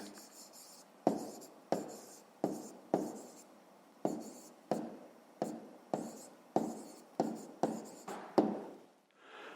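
Pen strokes writing out a fifth-grade math problem solution on paper, a steady series of about a dozen short scratching bursts, close and fairly quiet, with no talking.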